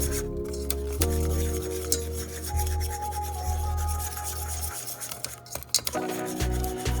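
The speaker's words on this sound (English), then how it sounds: "And I slowly whisked the flour in" Whisk scraping and rubbing flour into melted butter in a pan, continuous close scratchy strokes with rhythmic metallic rasping throughout, no talking.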